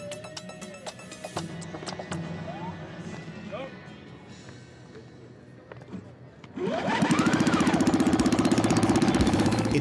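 A small supermileage race car engine on a track fires up after a stretch of talk and background noise, then settles into a loud, rapid, steady buzzing idle close by.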